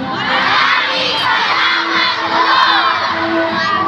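Schoolchildren at an elementary school festival celebration shout and cheer together in a loud, sustained crowd roar, high voices whooping continuously throughout.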